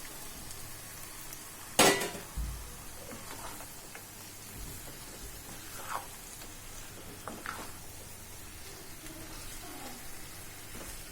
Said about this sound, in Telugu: దీన్ని హై ఫ్లేమ్లో ఒక 5 నిమిషాల పాటు ఇలాగా కలుపుతూ ఉడికించుకోవాలి.